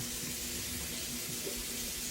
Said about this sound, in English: I'm gonna get over here and turn this water on so it can be getting hot